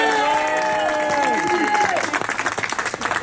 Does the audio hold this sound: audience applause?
yes